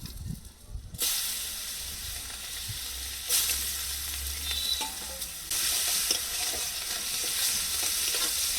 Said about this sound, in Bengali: পেঁয়াজগুলো এক মিনিট ভেজে নিয়ে